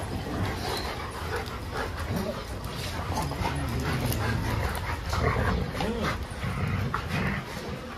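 Dogs scuffle at a training school, one snapping in fear at another, with whimpers and yips over a steady noisy background and some voices nearby.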